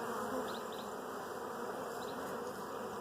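Dense, steady buzzing of many honey bees, close and continuous, filling the whole stretch with a low droning hum.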